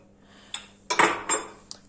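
Dirty dishes and cutlery are gathered up in a home kitchen, a few sharp clinks and clattering knocks of plates and silverware, close and moderately loud, with no talking.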